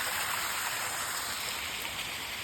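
Mountain spring water from a hillside stream flowing into flooded rice paddy fields, a soft, steady rushing wash heard alone at a fairly low level.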